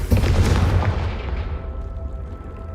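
A Confringo blasting spell in Hogwarts Legacy booms loudly at the start and rolls off into a decaying low rumble, heard alone with no talk.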